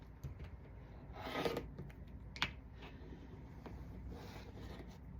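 Quilt block fabric sides being trimmed, faint close scraping and cutting sounds with a couple of sharp clicks against a quiet background.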